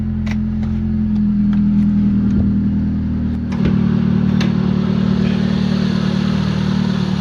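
A 1600 cc car engine with a semi-racing exhaust idles steadily nearby with a low, even rumble, briefly dipping then settling back into a slightly louder, constant hum.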